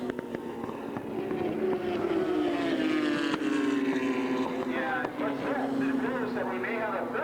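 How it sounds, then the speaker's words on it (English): Several 750 Superbike racing motorcycles, Ducatis among them, scream past on a track with a sustained high engine whine that sweeps downward as they pass, under continuous race commentary. "three bikes breaking away in 750 Superbike"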